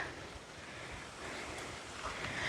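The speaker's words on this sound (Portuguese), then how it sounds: "Tá uma ventania." Strong wind gusting outdoors on a rural farm, a steady broad roar with surf-like rushing and low rumbling buffets on the microphone, continuous and loud with no speech.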